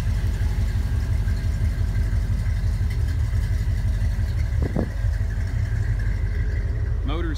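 A 1962 Ford Galaxie's engine idles steadily with a low, even exhaust rumble throughout, with a brief higher whine near the end.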